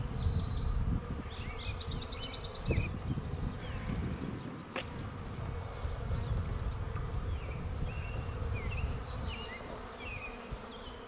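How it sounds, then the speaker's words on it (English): Bees humming around a beehive on a homestead, a steady dense buzz with individual insects flying past nearby, outdoors. "That's how I get to the beehive."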